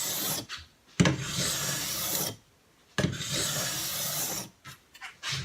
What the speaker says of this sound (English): After you've worked all 3 sections of the ski, you want to take long pulls, tip to tail, to blend in the 3 sections.